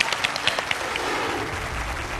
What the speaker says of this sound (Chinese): 那我们先给那个导演鼓鼓掌